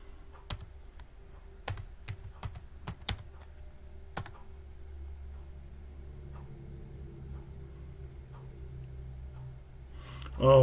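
Keyboard keys tapped in a short, irregular burst of clicks during the first four seconds on a Linux Mint computer, then quiet with a low steady hum and a brief louder noise at the very end.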